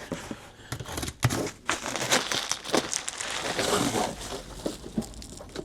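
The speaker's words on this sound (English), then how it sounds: "let me unwrap the new lights" Plastic packaging crinkles and crumples as new aftermarket car lights from Powerful UK, bought for a Range Rover Vogue, are unwrapped; close, steady rustling with sharp tearing bursts and no talk.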